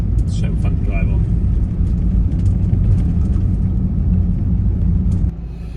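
Steady low rumble of a camper van cruising along Scottish roads, heard from inside the cabin as a loud continuous engine and road drone with a voice talking over it, easing slightly near the end.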